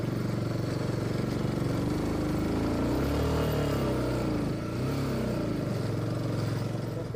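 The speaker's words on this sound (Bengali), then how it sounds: "যে বাইকটা মানে যাচ্ছেই না, বাইকের সাউন্ড শোনা যায়" A motorbike engine labours nearby in sand on a beach, its drone rising and dipping as the rider pushes the throttle and it strains to move.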